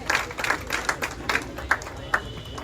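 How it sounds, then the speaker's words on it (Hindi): A seated audience of young people claps at a political tree-planting event in India, scattered irregular claps and a few sharper bursts rising over a steady background crowd hum. "जरा जोरदार ताली बजाइए।"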